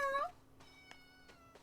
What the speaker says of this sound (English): She's so loud. I love her little meow. It sounds like a kitten's meow.